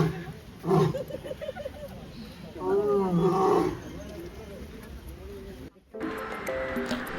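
A lion at Trivandrum Zoo gives deep groaning roars on a rainy day, a couple of loud calls among people's voices and background noise.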